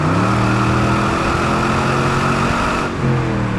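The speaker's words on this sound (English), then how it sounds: "That transmission downshifts exactly like you want it to when you really get it in the throttle like we just did." A 1999 Pontiac Firehawk with an LS1 V8, automatic transmission and factory exhaust accelerating hard under throttle, a loud steady engine drone with a brief dip near the end as it shifts.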